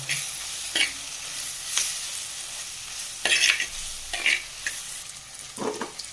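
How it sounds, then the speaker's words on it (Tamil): Tomato, onion and garlic sauté in oil in a clay pot, a steady soft sizzle broken by several scraping stirs of a spoon against the pot, close and moderately loud, with no talking. "இப்போ தக்காளி வெங்காயம் பூண்டெல்லாம் நல்லா வதங்கிடுச்சு"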